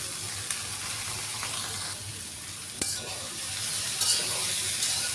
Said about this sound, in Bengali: সব সবজি এখানে দিয়ে দেব, সামান্য লবণ দিয়ে ভেজে নেব।